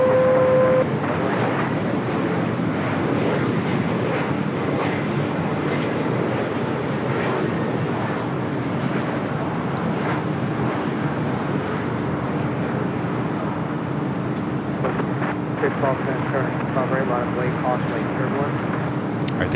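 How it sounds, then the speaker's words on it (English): An Emirates Airbus A380 taxiing at LAX gives off a steady low engine drone with a sustained hum, while a person talks over it throughout. "the Emirates A380 Super crossing over to 5 left, now making that left-hand turn on the Alpha"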